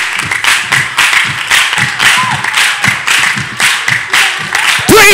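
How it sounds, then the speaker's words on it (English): Concert audience clapping along in rhythm with a regular beat of sharp claps, mixed with shouting voices, and a singer's voice cutting in at the very end. "They used to clap like this."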